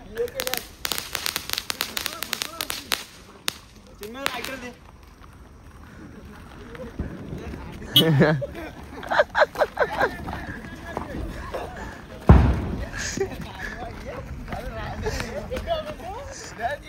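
Diwali firecrackers go off nearby: a rapid string of crackling pops at the start, then scattered loud bangs and bursts. People talk and shout over and between the explosions.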